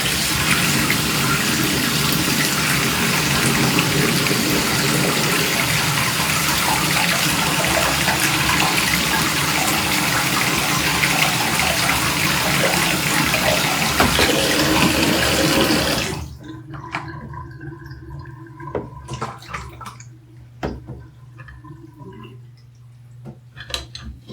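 Water gushes steadily and loudly into a water pit for about sixteen seconds, like a tap running full, then cuts off abruptly, leaving quiet room sounds and small knocks.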